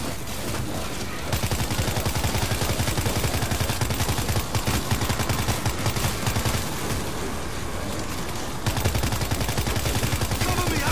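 Sustained automatic gunfire from the player's weapon in World War Z on Xbox One during a gate defense, a dense, loud, unbroken stream of shots with brief lulls and faint voices underneath.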